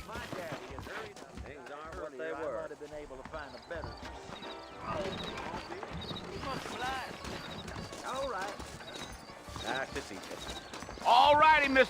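Horse hooves clop in a steady rhythm in Red Dead Redemption, with occasional whinnies, while people talk over the sound.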